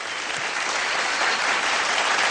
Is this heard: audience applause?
yes